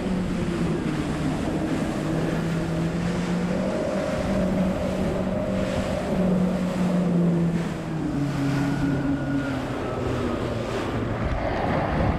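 Jet ski engine running out on the Gulf of Mexico, a steady loud motor drone with shifting pitch over continuous wind buffeting and water rush, heading out toward fishing areas.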